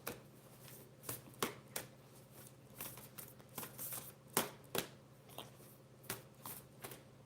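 A deck of playing cards is shuffled in a run of crisp riffle bursts and sharp snaps, recurring irregularly over several seconds at close range, with no talk.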